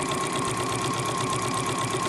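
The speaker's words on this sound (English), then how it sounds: "Just sewing these lovely straight lines" Domestic sewing machine with a universal needle and everyday presser foot running straight lines of stitching on a fabric machine cover; a steady, close, unbroken motor hum with fast needle chatter, no talking over it.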